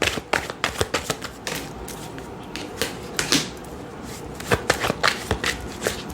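Tarot cards shuffled by hand to draw a single card: close, crisp riffling and slapping in quick irregular bursts that continue for about six seconds, with no speech.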